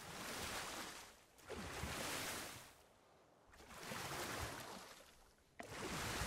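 Ocean waves in the video game ARK, far out in open water: repeated swelling rushes of surf rising and falling about every two seconds, soft and steady with no voices over them.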